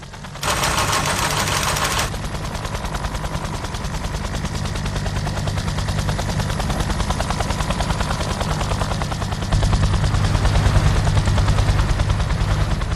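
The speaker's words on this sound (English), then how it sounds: "a helicopter was touching down every 10 minutes" Helicopter rotor thudding loud and close throughout during the evacuation of Saigon, with a brief burst of gunfire-like crackle near the start and a steady heavy drone swelling toward the end.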